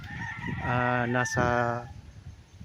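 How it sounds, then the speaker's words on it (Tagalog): A rooster on a farm in Pagsanjan, Laguna, crows once, loud and nearby, a single long harmonic call over quiet background. "Kasi may mga manok po doon"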